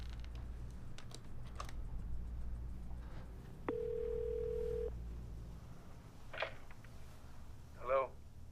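A payphone receiver gives a short, steady electronic dial tone lasting about a second, set amid quiet room noise and faint clicks.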